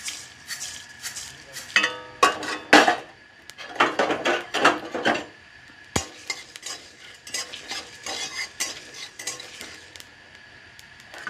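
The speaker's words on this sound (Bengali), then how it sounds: "ধনেটা কিছুক্ষণ নাড়াচাড়া করে নিই।" Dry red chillies and coriander seeds stirred in a hot wok, with bursts of scraping and rattling as a spatula sweeps the seeds, pausing between strokes, close and fairly quiet.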